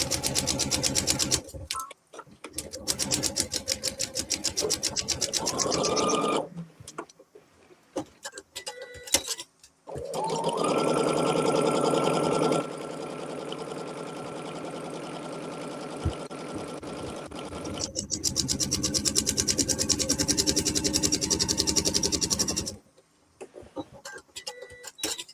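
Sewing machine stitching diagonal seams across quilt blocks, running in two long steady bursts with a pause between, each a fast even whir of needle strokes close by, with brief handling noises around the runs.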